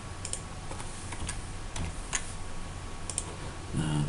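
Typing on a computer keyboard, quiet scattered key clicks in short irregular bursts against a faint room hum, with a brief low murmur of a voice near the end.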